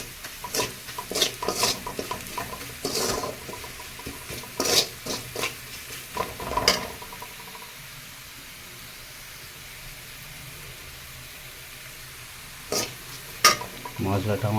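A spice mix fries in a pan over a low gas flame for okra do pyaza, with bursts of stirring and scraping over a soft, continuous sizzle that settles into a quiet stretch before the stirring starts again.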